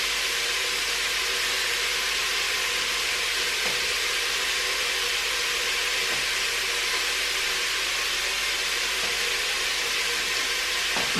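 Ingredients for a smoked garlic pumpkin soup frying in a pan, a steady broadband sizzle and hiss lasting throughout at an even level, with faint occasional ticks and no voices.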